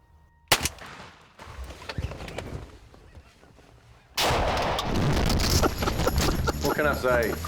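A single sharp shotgun blast fired at a turkey from a hunting blind, loud and close, followed by a stretch of quiet; later, talking and excited outdoor noise take over.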